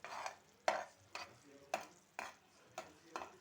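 A spoon stirs jaggery syrup with grated dry coconut in a pan, giving six or seven evenly spaced scraping strokes over a low, quiet background.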